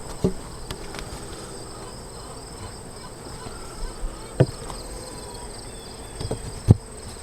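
Honeybees droning around an open hive during a varroa mite treatment, a constant outdoor buzz with occasional louder passes and light knocks.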